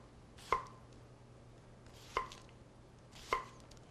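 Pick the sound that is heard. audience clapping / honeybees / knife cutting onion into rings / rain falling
knife cutting onion into rings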